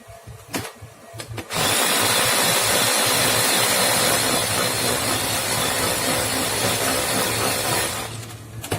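A blender pureeing canned tomatoes kicks on loudly after a brief quiet start, whirring at a steady high roar for several seconds before winding down.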